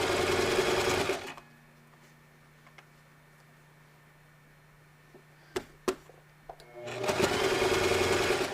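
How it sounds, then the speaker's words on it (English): A sewing machine stitches a seam on a quilt block, running loud and steady at the start, falling quiet with a few clicks in the middle, then speeding up again near the end. "So we're going to sew this one down, making sure the seams match up."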